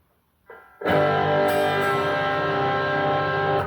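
A single sustained electric guitar chord rings out after a brief quiet pick, held steadily and loud with a slightly gritty edge.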